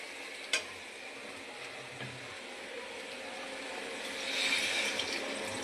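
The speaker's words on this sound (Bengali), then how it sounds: "এখন আমি জল দিয়ে দিব।" Water poured into spices frying in a pan in a home kitchen: a steady, close sizzle carries on, then swells into a louder, rising hiss as the water hits the hot pan.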